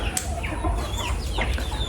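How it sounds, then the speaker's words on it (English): Chickens cluck and squawk busily while feeding outdoors on an island farm in Samoa, a steady close chorus of short calls with a brief flutter of wings. "I'm waiting for the chickens to finish eating"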